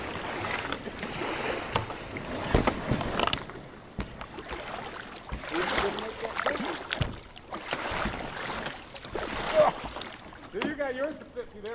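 Kayak paddle strokes splash and swish through water on the upper Rogue River with creaks from the boat, while people talk over the rhythmic paddling nearby.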